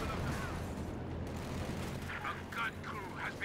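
Gunfire and battle sounds in the strategy game Company of Heroes 2, with a dense, continuous rumble of shots and explosions under intermittent voices talking.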